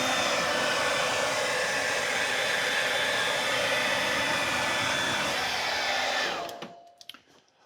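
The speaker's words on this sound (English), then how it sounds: "we want to take a hair dryer, and we're going to have some dethawing to do" A hair dryer defrosting a freezer drain blows steadily and loudly for several seconds, then switches off, leaving faint clicks and handling noises.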